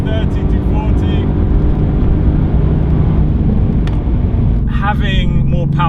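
A Mercedes-AMG GT R roars hard under full acceleration while pulling away from a 700 horsepower Audi RS4 B5 in a drag race, a loud continuous engine drone heard from inside the car with people talking over it.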